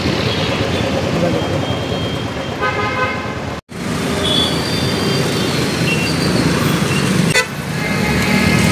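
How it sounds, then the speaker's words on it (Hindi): Heavy road traffic in Bangalore rumbles steadily while car horns honk repeatedly, with a long tonal horn blast and several short toots over the constant engine noise. "ये रोज़ का नाटक है भाई बहुत ट्रैफिक है भाई"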